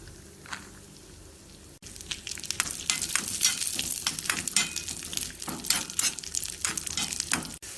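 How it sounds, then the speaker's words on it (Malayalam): Cashews and raisins frying in ghee in a pan for tender coconut payasam, a quiet opening that jumps into a close, crackling sizzle with quick popping spatters and stirring scrapes. "അണ്ടിപ്പരിപ്പിന്റെ കളർ മാറി തുടങ്ങുമ്പോൾ കുറച്ച് ഉണക്ക മുന്തിരിയിട്ട് വറുത്തെടുക്കാം"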